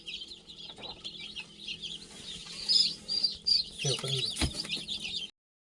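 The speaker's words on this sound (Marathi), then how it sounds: "प्युअर गावांचा पिल्ला आहे आणि त्याचे मल्टी कलर आहे सगळे पक्षी" Country chicks in a brooding box, chirping steadily in a dense, high-pitched chorus of overlapping peeps and soft clucks, close and constant for about five seconds.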